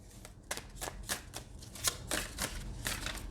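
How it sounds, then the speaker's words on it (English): Tarot cards being shuffled by hand in a string of quick riffling bursts, close and fairly quiet, with no voices over them. "we'll just take a couple more shuffles"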